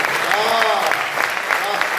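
An audience at an All India Hindi poetry gathering (kavi sammelan) claps in dense, sustained applause filling the hall, while a voice carries on over the clapping.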